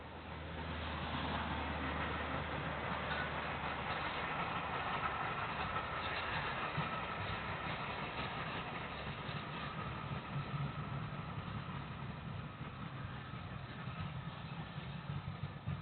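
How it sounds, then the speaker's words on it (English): Southern Railway steam locomotive 30053 running near East Grimstead on the way to Salisbury, a steady moderately distant rumble with faint rhythmic rail clatter, continuous and without voices. "The engine is seen near the village of East Grimstead en route to Salisbury Station"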